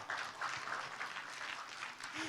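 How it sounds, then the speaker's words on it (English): An audience at a talk on retelling folktales for children claps briefly for a girl, a quiet, dense patter of applause for about two seconds with no distinct voices over it. "give her a clap"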